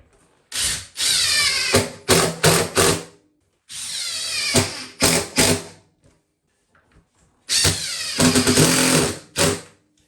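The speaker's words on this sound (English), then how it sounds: "I'll put a few screws in, hold it down" A power drill drives screws to hold down a toilet flange in a bathroom remodel, with three loud runs of whirring and ratcheting bursts separated by pauses, close and without talk.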